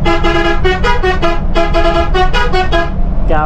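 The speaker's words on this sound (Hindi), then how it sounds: "तो ये प्रेशर हॉर्न बहुत ही ज़बरदस्त है" A Volvo B11R multi-axle bus's loud pressure horn honks in a rapid series of bright, harmonic blasts, repeated rhythmically over engine rumble, ending in a shifting tone.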